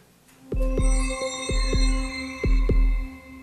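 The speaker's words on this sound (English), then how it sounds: "Do you hear the heartbeat?" A heartbeat inside a played music piece: deep, regular low thumps, about eight beats in steady rhythm, loud and close, under sustained warm tonal drones and bright high ringing tones, with no talking.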